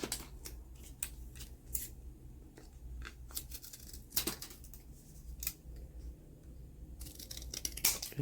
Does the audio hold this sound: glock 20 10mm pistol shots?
no